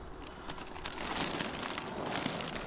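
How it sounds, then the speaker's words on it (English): A plastic bag holding a Paragon fold-down projector screen crinkles and rustles close up during unboxing, a steady, busy crackle that runs for the whole moment with no voices. "They're in a tied up plastic bag."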